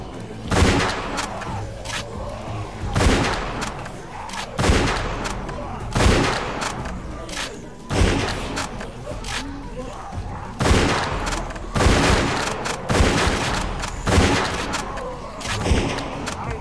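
Gunfire in Telltale's The Walking Dead game, Season 1 Episode 4: about a dozen loud, close shots, roughly one every second or two, each a sharp blast with a short echoing tail.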